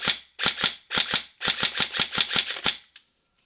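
Tokyo Marui SOPMOD airsoft electric rifle test firing, several sharp bursts of rapid mechanical shots separated by short pauses, close and loud, ending in near silence.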